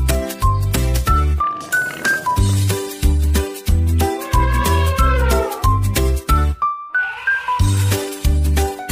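A cat's meows sound repeatedly over a bouncy children's song with a steady beat and bright melody, the meows woven into the music throughout.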